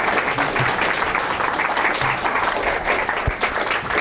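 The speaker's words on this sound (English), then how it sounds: "Give a big round of applause." Audience applause welcomes a speaker at a talk, a loud, dense, continuous round of clapping filling the whole stretch with a faint low hum beneath.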